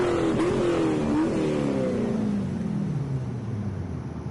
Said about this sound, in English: Engine sounds.